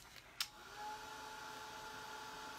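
A handheld dryer, likely a heat gun, blows steadily on freshly painted bench parts, a constant near whirring hum with a couple of brief clicks at the start.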